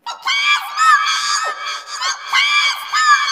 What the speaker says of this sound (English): he's screaming